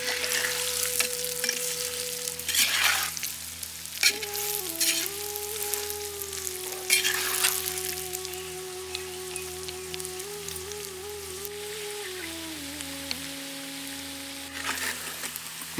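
Fried tuna pieces for a fish pickle sizzle in the same oil they were fried in, a dense crackling hiss close by that runs throughout, with a few louder stirring scrapes and a steady tonal hum beneath.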